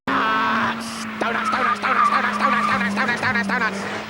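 A rear-wheel drive car slides on a wet track in the rain, tires squealing and skidding in several rising, wavering bursts over a steady engine drone, with a voice talking over it.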